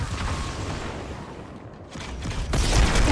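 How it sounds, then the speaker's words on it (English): Grenade blasts in Halo 2 on Legendary difficulty, a muffled rolling rumble of detonations that fades midway, then a louder close burst near the end. "Somebody's throwing grenades."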